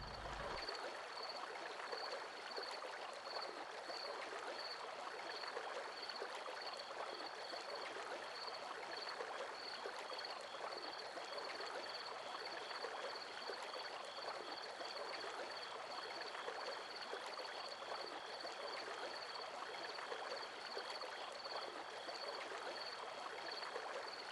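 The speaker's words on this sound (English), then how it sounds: "And the bridge had bubbling brook sounds." A bubbling brook runs beneath a bridge in the Forest Rail video game, a steady, unbroken wash of trickling water that holds an even level throughout, with no voices over it.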